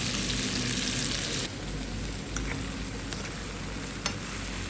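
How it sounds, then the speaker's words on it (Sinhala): Onions fry in a little leftover oil in a pan over a wood fire, giving a steady close sizzle that drops in loudness after the first moment, with a few sharp crackles and no talking. "මම දැන් ලුණු ටික මේ තෙලට එකතු කරලා ටිකක් බැද ගන්නවා."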